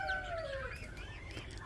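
Backyard chickens cluck and call close by, a falling drawn-out note followed by short overlapping clucks, with no talk.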